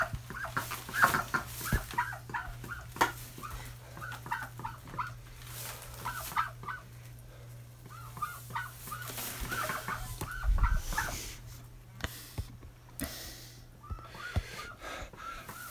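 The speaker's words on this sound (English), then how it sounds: "She did a bunch of quacking outside." An outdoor bird calls repeatedly in short bursts, with clucking, quack-like sounds scattered across a quiet background and a steady low hum running underneath.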